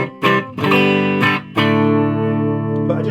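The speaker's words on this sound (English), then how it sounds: "I just love so much more jangly and what I expected this guitar to sound like with the coil split engaged" A Yamaha RGX A2 electric guitar with its humbucker coil split engaged plays a few bright, jangly strummed chords, each ringing out clearly with sustain, loud and alone without talking.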